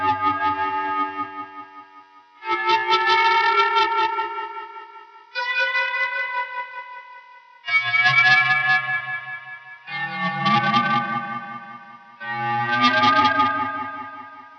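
Electric guitar swelling in with volume pedal on picked, bent notes through delay and other effects, six separate sustained phrases rising and fading with echoing, ethereal wash and slight distortion, no talking.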